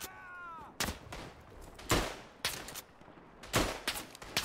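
In the WWI shooter Tannenberg, a quick run of five or six loud, close gunshots cracks out at irregular intervals over faint ambient battle noise.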